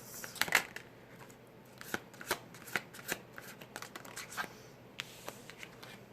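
Tarot cards being shuffled in a riffling, flicking series of crisp taps and snaps, denser early then spaced out, close up and fairly quiet with no talking.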